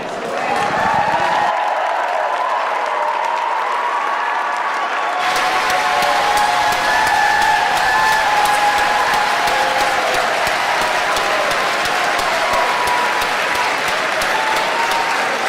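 A large convention crowd at a North Carolina Republican Party event applauds steadily and loudly, a dense wash of clapping that swells after a few seconds and carries on without pause, with scattered cheers mixed in.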